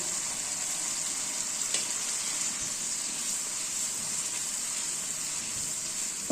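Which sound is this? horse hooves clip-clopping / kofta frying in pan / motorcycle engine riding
kofta frying in pan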